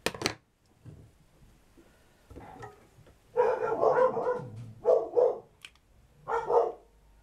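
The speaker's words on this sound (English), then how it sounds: "They know it's the dad and they still bark." Several dogs bark indoors in short bursts, a sharp yap at the start, then scattered barks building into a cluster of loud, overlapping barks with brief pauses between.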